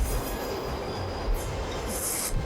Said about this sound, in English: Sounds like a train is coming.